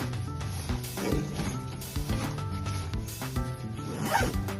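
A fabric compression packing cube stuffed with clothes is zipped shut for carry-on travel, giving several quick rasping zip strokes in bursts, close and clear with no talking.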